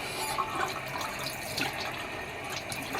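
Tap water running steadily into a sink while a human hair wavy wig is being saturated before co-washing, a soft continuous splashing flow heard close by with no talking.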